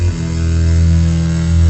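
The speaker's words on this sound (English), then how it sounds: "What I did here is I created a sound with that VFX Nexus" Sustained synth tone built with the Nexus VST in FL Studio, a thick, loud, steady buzzing drone with heavy low end that holds unchanged for under two seconds.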